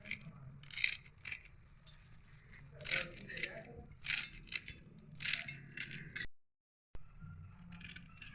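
Turnips are finely chopped with a knife on a cutting board, giving quick rhythmic clusters of crisp, close cuts, while someone talks quietly in the background.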